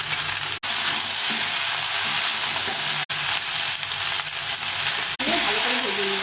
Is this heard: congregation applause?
no